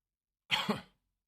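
A single short cough, close and fairly quiet, against silence.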